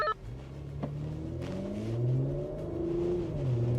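A Jaguar F-Pace SVR with supercharged V8 and a Porsche Macan GTS launch side by side from a rolling start, their engines swelling into a sustained rising roar as both SUVs accelerate hard, heard from inside one car.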